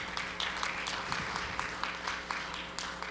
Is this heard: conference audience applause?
yes